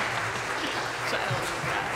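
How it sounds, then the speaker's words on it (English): Church congregation clapping during a Lutheran service in Bucyrus, Ohio, a steady wash of hands under voices and singing that continue throughout. "I think we should be clapping."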